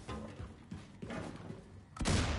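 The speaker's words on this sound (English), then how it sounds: "It's a good-ass explosion sound." Explosion in Wolfenstein II, a sudden loud booming blast near the end after a stretch of lower rumbling and thuds.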